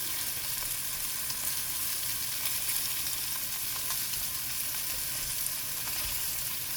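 Beef pieces browning in hot oil for stew, giving a loud, dense, continuous sizzle and crackle with no talking.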